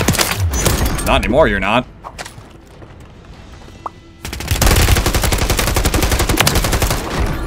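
Call of Duty gunfire in Urzikstan: a loud, rapid automatic burst erupts after a brief lull and keeps going in a continuous rattling stream, with a voice talking over the earlier part.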